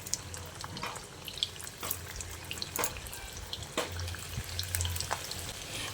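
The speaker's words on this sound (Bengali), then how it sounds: "গরম তেলে ছেড়ে দিচ্ছি।" Soya bean kababs are dropped into hot oil and fry with a steady, close sizzle and scattered crackling pops, with no voices over the sound.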